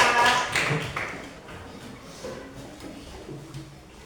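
A classroom of students applauds a presenting group, with dense clapping that starts loud and gradually fades away.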